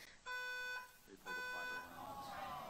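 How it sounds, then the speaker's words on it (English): A fire alarm pulled to disrupt a political event gives two loud electronic blasts, each about half a second long and cut by a brief gap, with room noise and crowd murmur between them and after them. "They're trying to stop the event by pulling a fire alarm."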